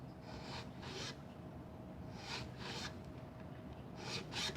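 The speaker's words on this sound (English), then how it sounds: "Maybe I can try this file just to see if I can get that little edge off down there." Hand file rasping the edge of a guitar neck, repeated back-and-forth rubbing strokes at a steady rhythm, close but fairly quiet, with no talk.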